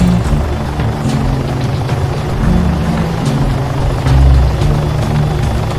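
A helicopter in the video game Arma 3 drones steadily with a low, continuous rotor and engine rumble that swells briefly toward the end, with no voices.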